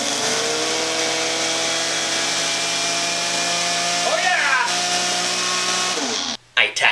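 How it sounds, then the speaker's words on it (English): A new kitchen blender runs loud and close with a steady motor whine, its pitch dipping and wobbling around the middle as the load shifts, then cutting off near the end, while people talk briefly over it. "We got a new blender."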